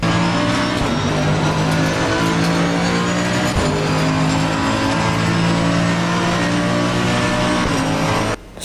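Race car engines whine loud and steady in a racing video game, with a continuous high-revving drone, brief shifts in pitch and a faint tyre hiss as the cars battle for position, with no voices.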